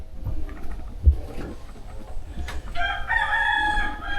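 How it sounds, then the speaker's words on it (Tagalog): Rooster crowing near an abandoned house, a clear drawn-out cock-a-doodle-doo rising in the last second and a half after quieter rustling and faint ambient noise. "So may narinig kayong manok guys."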